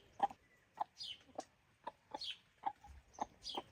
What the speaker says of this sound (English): This is the mother hen.